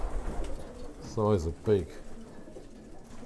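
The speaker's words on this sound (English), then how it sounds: "These are you'll see these are the sprint pigeons" Sprint racing pigeons in a loft give two short cooing bursts close by, with someone talking before and after.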